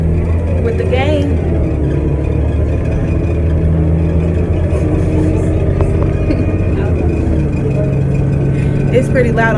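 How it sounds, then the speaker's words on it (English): A bus engine drones low and steady inside the moving bus, a loud continuous rumble with shifting pitch as it changes speed, while people talk over it. "It's pretty loud on this bus"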